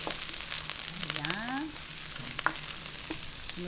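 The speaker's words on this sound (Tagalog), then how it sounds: "umpisahan na po natin ang paggigisa" Oil sizzling in a pan as a Filipino-style sweet and spicy chicken pasta sauté begins, a steady close frying hiss with a few stirring clinks and scrapes, no talking.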